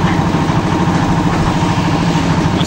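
A used AAA 350-liter concrete mixer's engine runs steadily at idle up close, a continuous throbbing mechanical hum with no breaks and no talking.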